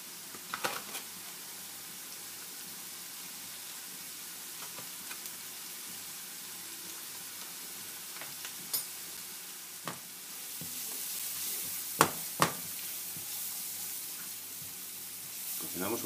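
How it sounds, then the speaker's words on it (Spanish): Flour cooks in a pan with a soft, continuous sizzle, with a few faint clicks and brief knocks against the pan, for a dish of beans with clams. "Cocinamos un poquito la harina."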